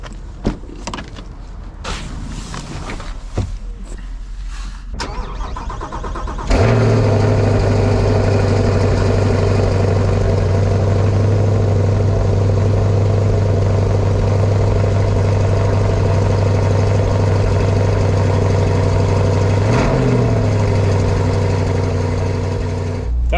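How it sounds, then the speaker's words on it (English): A Chevrolet Corvette C8 with base exhaust cold-starts, cranking and firing at about six seconds, then settles into a loud, steady idle, with a brief rev blip near twenty seconds. "That was a cold start on the base exhaust for the C8."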